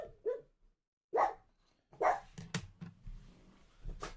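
A dog barks several times in short bursts, fairly close, with brief pauses between barks and some quiet background rustling.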